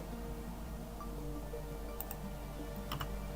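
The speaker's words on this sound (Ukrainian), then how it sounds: "Знову екстрадую вниз, натискаю E і Z." Computer keyboard keys are tapped while working in Blender: a few faint, crisp clicks come in a quick pair and then a short cluster, over a quiet room hum.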